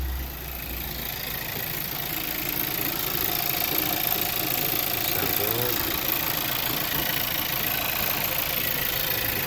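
A 2018 Audi A5 1.4 TFSI engine idles smoothly just after an oil change, a steady close-up mechanical hum with a faint rhythmic tick, with a voice speaking briefly over it.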